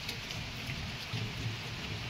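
Heavy rain pouring steadily in a constant dense hiss, with a low rumble underneath, continuous and fairly quiet overall with no voices.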